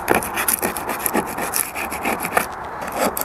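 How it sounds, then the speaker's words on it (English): Single-edged razor blade scraping old bedding compound off a boat deck around fastener holes, a close series of quick rasping strokes in an uneven rhythm. "the bedding that they used on the deck fasteners does come off fairly well with the single-edged razor blade"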